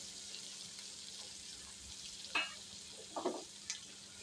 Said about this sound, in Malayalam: ഒന്ന് ചെറുതായിട്ട് വഴറ്റി കൊടുക്കാം